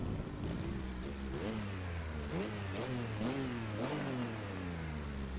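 A Porsche 962 race car engine in Assetto Corsa, heard from outside the car, revs repeatedly in sharp rising-and-falling bursts over a steady low drone, loud and close throughout with no talking.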